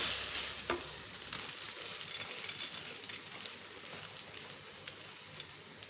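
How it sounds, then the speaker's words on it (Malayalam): Steady crackling sizzle of wheat grains roasting in a hot pan, dense and continuous with small pops and stirring scrapes, fairly close and no voices. "നമ്മൾ കഴുകി വച്ചിരിക്കുന്ന ഗോതമ്പ് നമുക്ക് ഇട്ട് കൊടുക്കാം."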